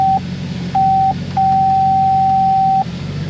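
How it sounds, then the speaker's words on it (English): Loud electronic beeps from an aftermarket head unit in a C6 Corvette Z06, sounding as a steady pure tone in three bursts, short, short, then long, over a low idling engine rumble. "cars with aftermarket head units, the beep gets so friggin' loud"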